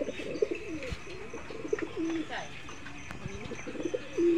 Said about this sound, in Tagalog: Daming mga ibon sa taas, o.